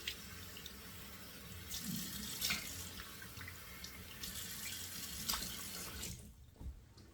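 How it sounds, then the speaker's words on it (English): Cold water runs steadily from a bathroom tap into a sink after a shave, a continuous close hiss and splash with a few brief louder bursts, easing off near the end. "let me get running the cold tap water here"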